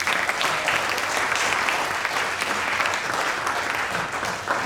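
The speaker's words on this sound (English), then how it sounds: "If we could have a round of applause for them" Guests at a wedding applaud during the speeches, a steady, full round of clapping that runs evenly through the whole stretch without talk.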